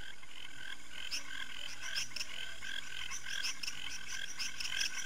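Frogs call in a Costa Rican night chorus, with steady, overlapping croaks and chirps pulsing in quick repeated bursts over a continuous background hum, fairly close and with no voices.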